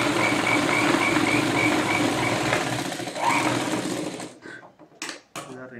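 Sewing machine running steadily while stitching a simple blouse, a close continuous mechanical whir that slows and stops around four seconds in, leaving brief handling noises and short bursts afterward.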